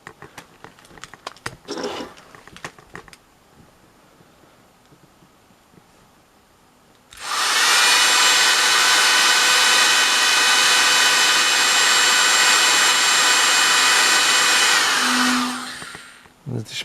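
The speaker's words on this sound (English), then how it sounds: "Get the hairdryer." After some quiet handling clicks, a hair dryer switches on with a loud, steady whooshing roar, blowing for about eight seconds before winding down.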